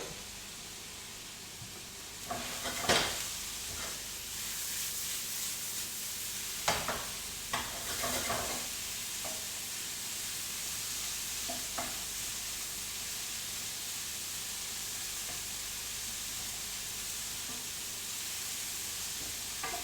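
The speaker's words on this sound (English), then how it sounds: "I'm now going to add my peppers." Sliced peppers fry with caramelised onions in a pan for beef gyudon, giving a steady, close sizzle throughout, broken by a few sharp clacks of stirring.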